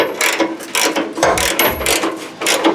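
Bolts being snugged up on a fuel tank skid with a ratchet, giving quick, loud, close clicking bursts in several runs with brief pauses between.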